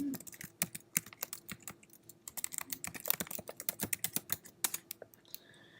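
Rapid, irregular clicking of keys on a computer keyboard, close and fairly quiet, with short bursts of keystrokes and brief pauses over several seconds.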